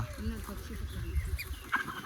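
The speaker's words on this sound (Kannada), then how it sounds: "ಓ ಕೋಳಿಗಳು ನೋಡಿ" Chickens clucking on a farm where the hens roam an open coop, with short bird calls scattered over a low rumble of background noise and people talking nearby.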